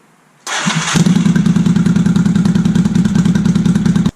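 A 1983 Honda Shadow 750 motorcycle, recently fitted with a replacement starter gear, cranks briefly, catches and settles into a loud, steady, rapid idle close by.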